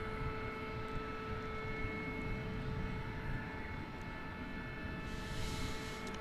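Qantas Boeing 787-9 Dreamliner departing Dallas Fort Worth Airport at night for Sydney, heard as a faint, distant, steady engine drone with a faint tonal hum running through it.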